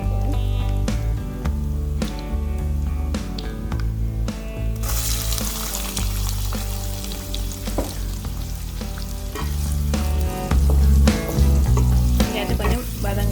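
Onions fry in oil in a pan for tin fish cutlets, with a steady, dense sizzle throughout that swells louder partway through.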